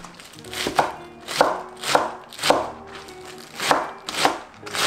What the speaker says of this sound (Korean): 잘게 썰어줘야 돼요.